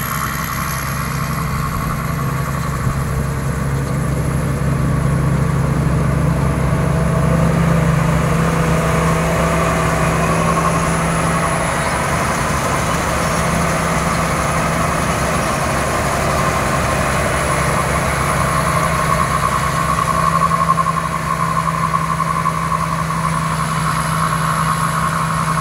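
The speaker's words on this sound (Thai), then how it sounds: "เร่งเครื่องเพิ่มครับเจอข้าวหนาเร่งเครื่องสู้อย่างเดียวครับ" A rice harvester engine labors steadily through thick rice on an uneven 14-rai field, a loud continuous drone with a low rumble and persistent mid-range whine, holding close and constant with no talk.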